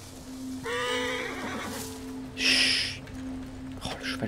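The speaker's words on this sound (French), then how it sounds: "le cheval qui fait du bruit." A horse whinnies clearly over a steady hum in Assassin's Creed Origins, followed by a breathy snort, with game-like background tones.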